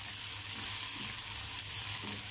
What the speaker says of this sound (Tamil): ஜீரகம் பொரிஞ்சதும் நம்ம கட் பண்ணி வச்சுருக்க பாகக்காயை சேர்த்துடலாம்.